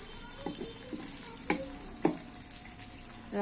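Aloo dum, potatoes frying in a pan in a home kitchen, sizzling softly while a utensil stirs and scrapes in a few distinct knocks against the pan, close by and fairly quiet.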